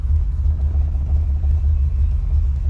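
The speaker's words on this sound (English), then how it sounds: "You can hear the engine" A BMW E23 engine rumbles steadily while warming up, a loud, close, low and continuous throb without speech.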